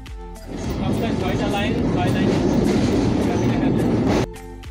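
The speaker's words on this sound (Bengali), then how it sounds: "এরকম মাঠের বুক চিরে ছুটে চলেছে আমাদের ট্রেনটি" A Bangladeshi local train racing through open fields, heard from aboard as a loud, continuous rumble with rhythmic wheel clatter and humming tones that cuts in and drops away sharply.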